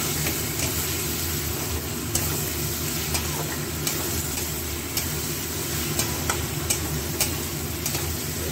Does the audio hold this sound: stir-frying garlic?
yes